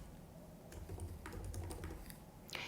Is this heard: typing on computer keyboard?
yes